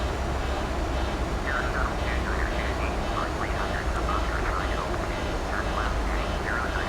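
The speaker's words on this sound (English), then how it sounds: "That's the noise of the throttle takeoff warning horn, but we're already airborne." Short repeating throttle takeoff warning-horn pulses chirp steadily over a loud, constant roar of aircraft engine and cockpit noise, just after takeoff from Las Vegas.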